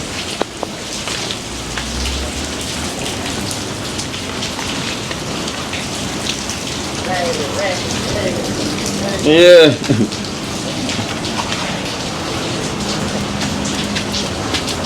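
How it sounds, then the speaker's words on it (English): Steady rain pours down on a surface in Georgia, a dense continuous hiss throughout, with a brief louder burst near the middle and a single short spoken word. "The rain still falling."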